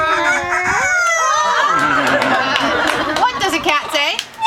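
Pet bird mimicking a rooster's cock-a-doodle-doo, with wavering whistled tones amid overlapping human voices and chatter, close and fairly loud.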